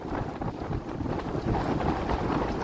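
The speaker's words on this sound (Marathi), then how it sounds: "जोराचा वारा तर सुटला मित्रांनो आणि एकदम पाऊस बघा कसला जोरात येतोय" A stormy downpour with gusting wind over Mumbai makes a loud, thick, continuous roar of rain and buffeting air, close and sustained throughout without any speech.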